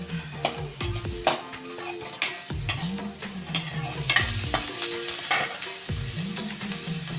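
Onion, green chili and curry leaves frying in a pan, a steady sizzle broken by repeated scraping stirs and clinks of a spatula, close and fairly loud throughout.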